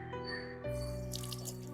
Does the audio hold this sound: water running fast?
yes